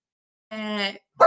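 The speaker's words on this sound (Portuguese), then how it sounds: "Desculpa o meu cachorro latindo." A pet dog at home gives two close, loud barks, the first a sustained, tonal yelp and the second a short, sharp bark after a brief pause.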